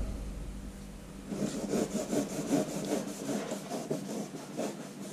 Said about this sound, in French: Ça s'est gélifié et on va le découper pour voir le rendu.